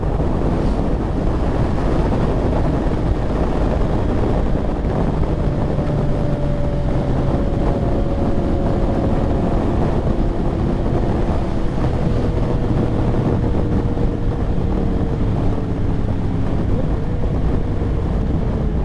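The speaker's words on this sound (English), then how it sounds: "A little windy in this canyon, but it'll go away." Steady, loud wind buffeting the microphone in a canyon during a motorcycle ride for the whole stretch, with a low rumbling roar and faint drifting tones underneath.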